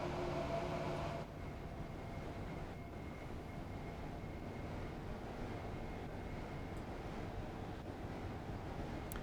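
Train rolling along in Train Sim World 3, a Northern Trans Pennine service running through snow, giving a steady broadband rumble with a few faint clicks that stays even throughout after a slightly louder opening second.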